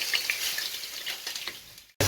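Steady hot sizzling of chicken searing in oil in a pan, loud and close, with faint crackles, cutting off abruptly at the end.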